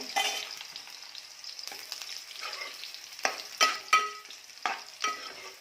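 Garlic fries in a pan for a spinach and chakvat gargat, a steady close sizzle broken by several sharper scraping stir strokes toward the end, with no talking.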